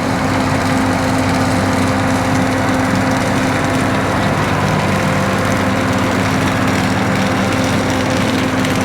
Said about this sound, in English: For you older John Deere fans, here's a little 4440 action for you.